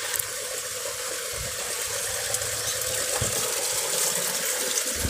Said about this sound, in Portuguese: Com certeza eles estão esvaziando a piscina. Aí desce essa água aqui.